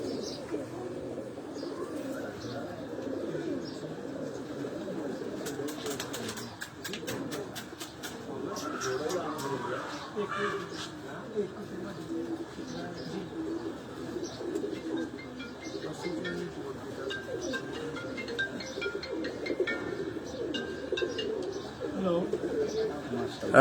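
A pure black-faced male pigeon coos on a rooftop loft among other birds, soft repeated throaty calls blended with faint chirps and occasional rapid clicks, steady and moderately close.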